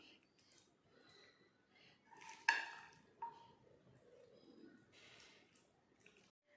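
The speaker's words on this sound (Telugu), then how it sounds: "ఇప్పుడు రెడీ చేసుకున్న వంకాయ టమాటా పచ్చడిని నేను డిష్ అవుట్ చేస్తున్నాను." Brinjal and tomato chutney being dished out in a kitchen, with faint scraping and clinks of a spoon against a pot, one sharper knock midway, under quiet background noise.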